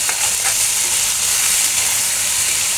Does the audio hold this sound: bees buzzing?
no